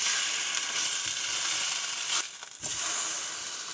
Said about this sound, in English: So that's our bacon nice and crispy.